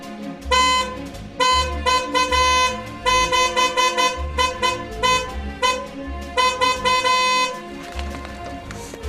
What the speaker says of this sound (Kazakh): анан сигналын басып мүнөзүн көрсөттү